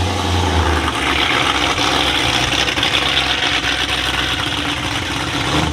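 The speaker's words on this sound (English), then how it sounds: "engines going all around you, so I'll try to use as little music as possible and just keep the engine noise going all through this video" Muscle car engines idle together at the Street Machine Nationals car show, a steady layered rumble of several motors running nearby without pause, with no talking.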